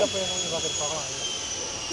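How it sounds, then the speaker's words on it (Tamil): A jet airplane engine at an airport holds a loud, steady roar with a thin high whine on top. Voices murmur briefly near the start. "ஃப்ளைட் வந்து இறங்கிருக்கா, கிளம்புதான்னு தெரியல"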